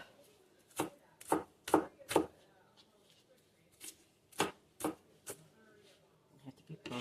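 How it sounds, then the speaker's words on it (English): A knife chops through onion rings in quick sharp thuds, four fast strokes in a burst, a pause, then a few more scattered chops, close and clear with a faint voice in the background. "I have some rings here. Let's give those a"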